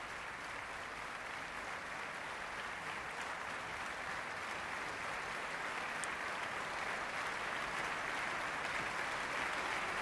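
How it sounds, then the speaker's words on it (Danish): Audience applause after a Royal Danish Ballet performance of Etudes, with steady, dense clapping from a large crowd that continues evenly throughout, moderately distant and without any talk over it. "Og de får velfortjente store klapsalver."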